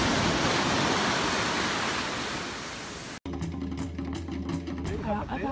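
Waves on a deserted beach at Nuku Hiva, a loud broad wash of surf and wind for about three seconds before cutting abruptly to a quieter, different scene.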